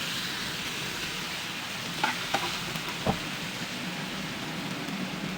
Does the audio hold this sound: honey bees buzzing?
no